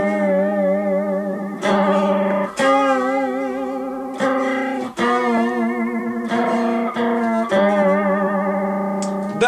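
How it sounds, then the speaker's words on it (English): Sustained guitar notes and chords through a DigiTech Whammy pedal pulse with a choppy, warbling vibrato, the pitch wobbling rapidly in a stuttering rhythm, speed set by the treadle; no talking, loud and close. "you basically get this stuttering crazy vibrato effect, and you can adjust the speed by the treadle."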